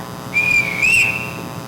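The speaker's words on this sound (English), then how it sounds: "I can't bear being whistled for." A ship captain's whistle is blown in a staged musical, one shrill, sustained blast that rises and dips in pitch, loud and alone.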